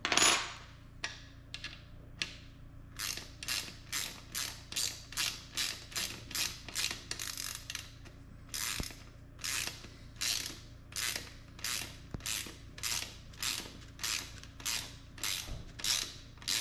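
Repeated ratcheting clicks from a screw being driven into a plastic thread on a ride-on trolley, steady rhythmic bursts roughly every half second, close and clear with no talking.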